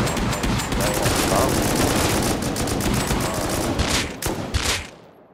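Sustained heavy gunfire in a video game, a dense, loud barrage of rapid shots that holds steady, then breaks into a few separate bursts before fading.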